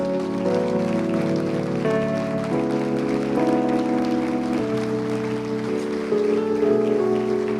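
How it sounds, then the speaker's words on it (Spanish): Church congregation at an evangelical service in Chile claps steadily as one dense wash of applause, with sustained keyboard or organ music playing loudly over it throughout. "Le damos un aplauso a Dios."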